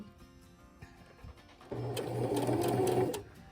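A sewing machine stitching cloth napkin fabric, one steady run of rapid stitching of about a second and a half that follows quiet handling sounds.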